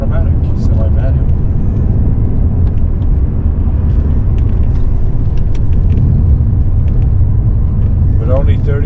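A BMW 850CI engine drones steadily as the gearbox shifts, a loud continuous low rumble filling the cabin without a break, with a faint rising whine near the end.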